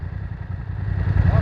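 A BMW F900 R motorcycle engine runs close by with a steady low rumbling idle that builds slightly louder toward the end of the brief moment.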